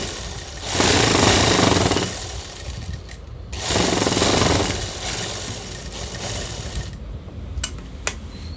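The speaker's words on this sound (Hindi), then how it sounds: "आपको स्टिचिंग करनी है।" A sewing machine stitches the seam of a palazzo, running in two loud bursts of about a second each, then a lower steady whir with a few clicks near the end. No one speaks.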